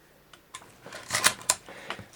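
A Canon AE-1 35mm film SLR with a fast 50mm f/1.4 lens clicks and snaps close by in a quick run of sharp mechanical shots, its shutter firing in uneven bursts, with no voices.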